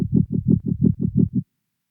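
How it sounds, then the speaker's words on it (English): A muffled, low bass tone from a Boss RC505 mk2 looper, run through a preamp, low-pass filter and tremolo sidechain, pulses in about eight even throbs before cutting off abruptly. "I have an Osbot on A preamp on B, low pass filter on C, and a tremolo sidechain on D."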